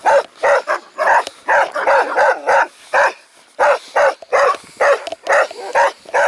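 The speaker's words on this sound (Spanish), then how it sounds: "Un pequeño momento de tensión que afortunadamente solo se quedó en ladridos" A dog barks repeatedly in loud, close bursts, a steady run of sharp barks with short pauses between them.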